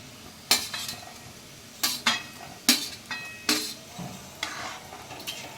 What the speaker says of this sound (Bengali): এবারে আমি বড়াগুলো দিয়ে দিচ্ছি